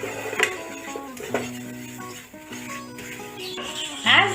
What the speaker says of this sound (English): Keep stirring it till it changes its color.